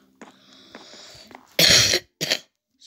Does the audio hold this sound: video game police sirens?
no